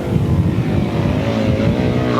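Grasstrack sidecar racing outfits, including the 1998 British left-hand sidecar champions, set off together at the 1998 South Eastern Centre championships, a dense, loud roar of several engines droning steadily.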